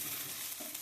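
Vegetables with turmeric sizzle in a pan for chowmein in a brief, steady fry, with a soft stir or scrape near the end.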